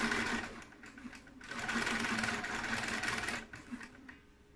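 A sewing machine stitches a fabric seam on a kitchen charlotte in steady buzzing runs that briefly slow and resume, close and continuous with no speech.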